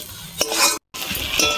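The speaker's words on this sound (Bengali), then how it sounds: "ভেজে রাখা সয়াবিনটা দিয়ে দেব, দিয়ে একটুখানি কষিয়ে নেবো আর 1-2 মিনিট মতো।" Fried soybean chunks are stirred and sautéed in a pan for a Bengali soybean dhoka dish, giving close scraping stirs and a steady sizzle broken by a brief silent gap.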